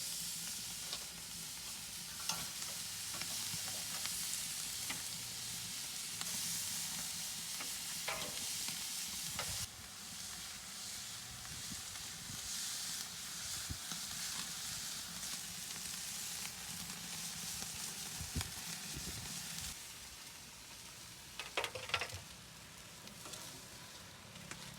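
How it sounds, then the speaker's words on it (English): Beef satay skewers sizzle on a Big Green Egg barbecue, a long continuous crackling hiss with scattered pops and scraping clicks as the skewers are handled. "we're putting the skewers on to cook probably about 5 minutes total"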